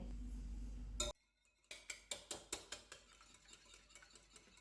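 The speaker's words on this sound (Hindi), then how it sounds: "अंडों को फेंट लेते हैं।" After a brief low hum cuts off, a bowl rings with a series of sharp, evenly spaced clinks as a whisk beats eggs quickly against its sides.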